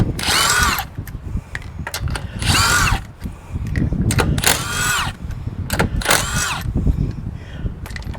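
An impact power tool unscrews lug nuts from an Acura wheel in repeated loud whirring bursts with brief gaps, close and harsh.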